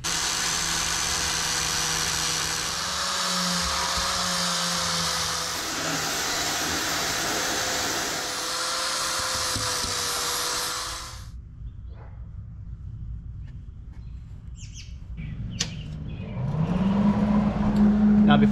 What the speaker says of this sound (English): I need to grind off all of this grease and paint.